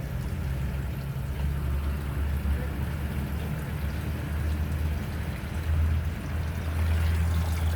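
Water drains steadily out of a dirty fishpond during cleaning, a continuous rushing trickle over a deep, constant low hum, moderately faint and unbroken for the whole stretch.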